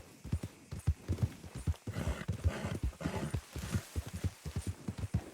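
A horse in the video game Red Dead Redemption 2 on PS4 trots with a brisk, even clip-clop of hooves, close and clear, the rhythmic beats running steadily through the whole stretch.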